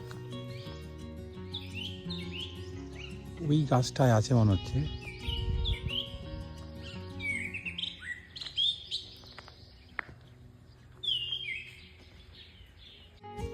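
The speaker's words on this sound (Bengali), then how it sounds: "একটা পাখি ডাকছে, দারুণ আওয়াজটা শোনো।" Varied, shifting birdsong from a tree in a roadside forest near Bande, chirps and whistles repeating in bursts with a brief low rumble partway through, while a person speaks quietly over it.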